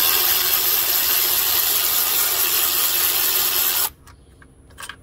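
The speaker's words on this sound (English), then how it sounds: "So we're going to start by trying to remove these bolts. You got to break the bolts." A socket wrench works loose the 12mm bolts on the A/C compressor of a 2014 Kia Soul, making a loud, continuous mechanical whir for several seconds before it cuts off abruptly, leaving faint clicks.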